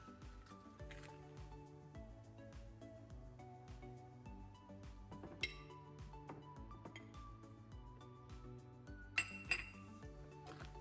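Eggs, salt, pepper and plain flour being mixed together in a bowl: scattered light clinks and taps against the dish over steady background music.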